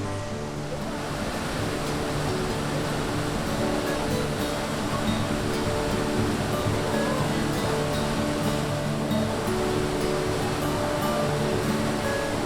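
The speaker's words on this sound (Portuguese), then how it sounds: "A cachoeira é bonita, tem uma boa praia" A continuous, dense roar of rushing water from a waterfall falling into a shallow sandy pool, steady and fairly loud throughout with no pauses or voices.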